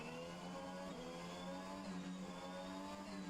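A race car engine in a sim racing game holds a steady, buzzing mid-pitched drone at a fairly constant pitch, faint and even throughout, heard alone without talk.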